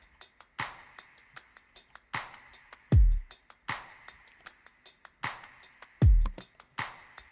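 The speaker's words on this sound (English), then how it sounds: "And with the kick." Electronic drum loop for a pop production: steady ticking hi-hats and crisp hits in a repeating pattern, with a deep booming kick drum landing twice, loud and close.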